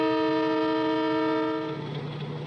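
An Indian train departing Nanpara Junction station in Uttar Pradesh sounds one long, steady horn blast for about a second and a half, which then gives way to a lower rolling rumble.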